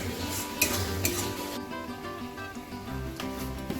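Ginger and green chili paste hits fried onions in a pan, giving a soft sizzle with scraping and stirring of a utensil against the pan, plus a few light knocks.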